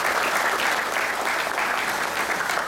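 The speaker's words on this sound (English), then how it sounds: "Big round of applause for Dalen." Sustained applause from a banquet crowd honoring a high school football player of the year, dense clapping that swells and holds steady without pause, with a few faint voices mixed in.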